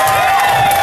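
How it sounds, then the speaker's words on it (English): A crowd at an outdoor rally in Tallahassee, Florida claps and cheers in a brief, loud, dense burst heard from within the gathering. "Come on, clap your hands, y'all."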